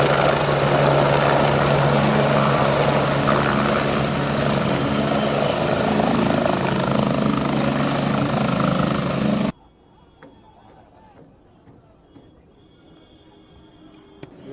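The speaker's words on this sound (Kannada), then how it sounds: "ಬೆಳಗಾವಿನಿಂದ ಹೆಲಿಕಾಪ್ಟರ್ ಮೂಲಕ ನೇರವಾಗಿ ಮುದಗಲ್ ಪಟ್ಟಣಕ್ಕೆ ಆಗಮಿಸಿದ ಸಚಿವರು" A helicopter arrives at Mudgal town in Raichur, its loud, steady rotor and engine roar filling the first nine seconds before cutting off abruptly into quiet background with faint distant sounds.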